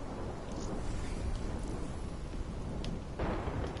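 A thunderstorm in a video game: a continuous hiss of rain over deep rolling rumbles, with a heavier swell near the end and no voices.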